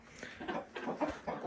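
Egg-laying hens cluck softly while pecking at seashells set out in a dish, making quiet, irregular murmurs and small taps close by, with no talk.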